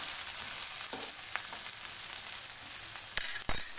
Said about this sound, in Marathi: तीही आपल्याला छानपैकी अशी परतून ह्याच्यावर घ्यायचं आहे, टॅमॅटो मटरवरती